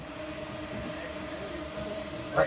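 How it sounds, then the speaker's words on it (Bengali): Steady rumble of a moving zoo train at Al Ain Zoo, UAE, heard from inside, with a constant low drone and a faint tonal whine running throughout. "এই যে ট্রেন আমাদের ছেড়ে দিয়েছে"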